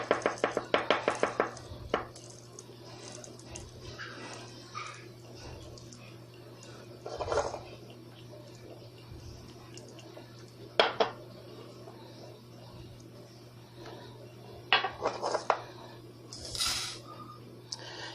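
Half a cup of dried elderberries goes into a cooking pot for homemade cough syrup, with clattering of the pot and utensils, a quick series of knocks at the start, then scattered clinks and rattles over a steady low hum.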